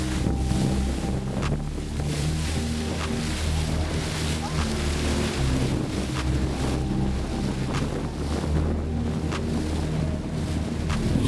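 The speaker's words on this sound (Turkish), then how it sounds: "Teknemiz yavaşladı." A low boat engine rumbles steadily beneath gusty wind and splashing waves at sea off Tromsø, with faint voices now and then, as the boat slows down.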